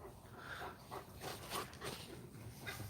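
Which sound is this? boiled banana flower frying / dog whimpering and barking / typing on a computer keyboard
dog whimpering and barking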